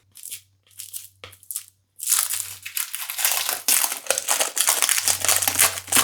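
Plastic cling film is pulled and pressed over a bowl of cake cream. Close, sharp crinkling comes first in short bursts, then in a denser, continuous rustle with a low hum underneath.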